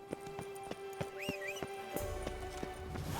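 A horse in The Witcher 3 video game trots with evenly spaced, crisp hoofbeats, gives a short whinny partway through, then keeps going as a rumbling ambience swells near the end.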